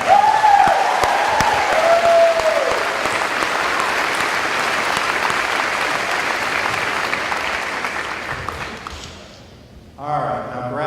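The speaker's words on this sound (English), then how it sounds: "Give them a round of applause" Audience applause fills an honors convocation hall, steady and sustained for about nine seconds before fading, then a brief renewed burst near the end.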